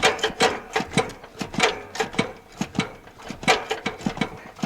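A lawn tractor belt tensioner arm is pulled by hand on a Craftsman 17.5HP 42-inch LTS1500, producing a close, rhythmic series of mechanical clicks and creaks.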